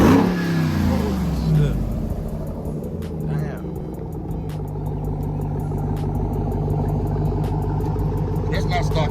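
A deep 5.7L HEMI truck engine with aftermarket exhaust revs and rumbles steadily up close, with brief louder bursts of throttle and people talking faintly underneath.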